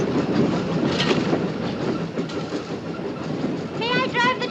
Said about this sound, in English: May I drive the train?